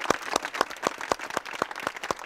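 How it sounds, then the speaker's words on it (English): Hand claps from a small group, heard as a steady run of about nine distinct, evenly spaced claps at moderate volume, with no voices over them. "Applaud yourself."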